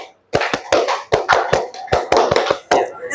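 Classroom clap routine led by a teacher: a group claps in sharp, tight bursts, roughly a dozen loud claps in quick pairs and clusters over a few seconds, close and clear.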